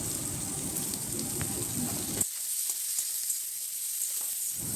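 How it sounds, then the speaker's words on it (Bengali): Hog plums fry in a pan for chutney with a steady close sizzle as they are stirred, and the sizzle cuts off abruptly halfway through, leaving a quieter hiss with light scraping. "আমড়াগুলো একটু নাড়াচাড়া করে নেব।"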